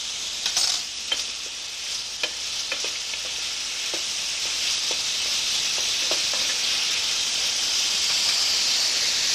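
Meat fries in a pan over high heat with thyme tossed in, a steady loud sizzle and hiss with a few sharp pops and spatters near the start, close up and with no talking.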